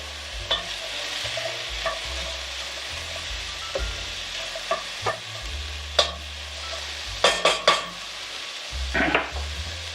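Onions fry in a pan with a soft continuous sizzle, broken by scattered scrapes and clinks of a utensil stirring them, fairly quiet and close with no talking.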